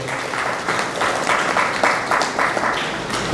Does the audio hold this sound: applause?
yes